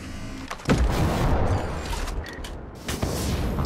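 A drone blows up in the shooter Ghost Recon Breakpoint after landing on a roof, a sharp nearby blast followed by rumbling debris and a couple of further thuds and cracks over a few seconds.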